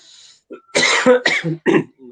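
A few harsh, close coughs in quick succession, with a throat-clearing rasp between bursts and short pauses.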